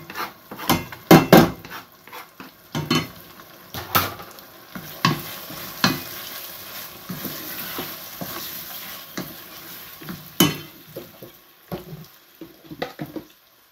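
Tomatoes fry with onion and ginger-garlic paste in a pan, a low sizzle broken by irregular sharp clacks and scrapes of a spoon against the pan as it is stirred.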